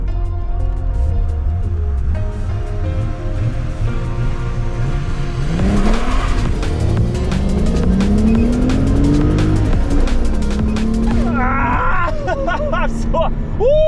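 A restored Audi S4 on a 0-100 acceleration test run revs hard, its engine note climbing through the gears with a tire squeal, loud and close, with people talking and shouting over it.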